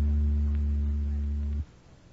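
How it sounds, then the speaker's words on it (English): A steady, low 80 Hz electronic oscillator hum with a buzzy edge holds for about a second and a half, then cuts off abruptly into faint background noise. "That was an electric oscillator you just heard"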